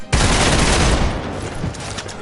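Gunfire in the video game Marvel's Midnight Suns: a loud, sudden burst of rapid shots fired at Venom, the barrage roaring for about a second before trailing off into fading echoes.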